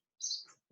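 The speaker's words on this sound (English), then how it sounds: "The birds outside the window are very, very active today" A single quick bird chirp from outside a window, brief and faint, with a soft low thump right after.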